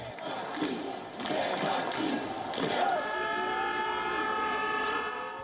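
A large crowd of mostly women, about 7,000 strong, chanting in front of the cathedral in Katowice at a protest, a diffuse roar of many voices with rhythmic swells, then fading as a long rising siren-like tone carries on alone.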